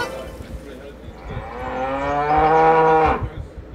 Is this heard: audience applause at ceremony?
no